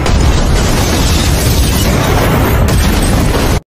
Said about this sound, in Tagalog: biglang sumabog ang isang napakalakas na pagsabog na sumire sa buong istasyon ng pulisya